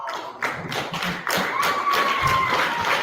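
Scattered hand claps ring out in a lively, echoing room during a sports radio show, mixed with a steady whistling tone and background noise rather than full applause.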